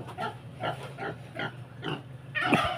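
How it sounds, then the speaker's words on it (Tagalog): A native pig grunts in the mud, a series of short rhythmic grunts at close range, ending in a louder squealing snort. "Ayan, tingnan natin, may baboy."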